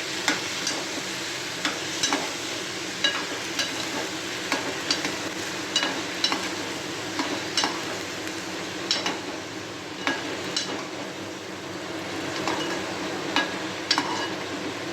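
Raw mango pieces sautéed in a pan after a tempering has crackled, a constant close sizzle with regular spatula scrapes and taps every second or so, steady throughout.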